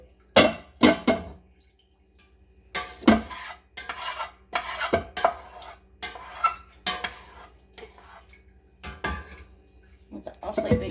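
Scraping and scooping of apple jelly from a large cooking pot, with repeated utensil scrapes and clinks in irregular bursts, close and fairly loud, no talk.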